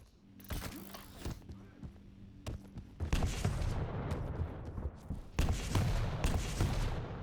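Railgun shots in a Quake Pro League match, sharp cracking blasts in quick succession over dense, busy game noise, with loud bursts near the start and again midway.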